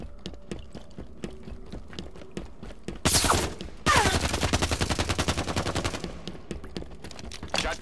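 Game gunfire from a Halo 5 Guardians match on the Medusa map: a burst of rapid automatic shots around the middle, with loud blasts and a shotgun among them, and scattered shots before and after.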